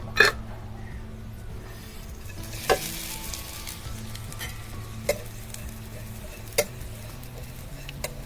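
Oil sizzles steadily in a wok as dried fish fries, with a few sharp clicks and taps from a utensil at intervals.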